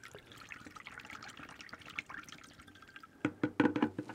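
Fixer solution is poured while hand-developing 16mm film, starting as a faint trickle and drip, then turning into a louder burst of splashing liquid near the end, recorded close with no talk.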